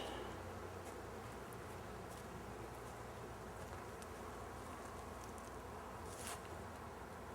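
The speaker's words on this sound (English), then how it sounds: "now I'm going to blow all the bees out of the honey supers" A steady, dense buzz of many honeybees being blown out of honey supers fills the whole stretch, continuous and fairly loud, with faint clicks and rustles on top and no voices.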